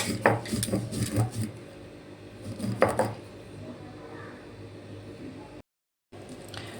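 Mustard seed and poppy seed paste ground with water on a flat grinding stone, a close, uneven scraping and knocking with a few sharper clatters, then steady rubbing and a brief drop to silence near the end.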